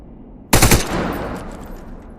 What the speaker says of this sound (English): So shoot the container's highlighted edge and watch as your bullet job.